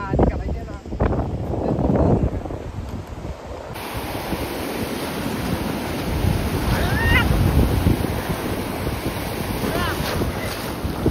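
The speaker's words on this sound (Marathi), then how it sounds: "आपण समुद्रकिनारी आलो होतो" Sea waves washing onto a beach, a continuous rushing surf with heavy wind buffeting the microphone throughout.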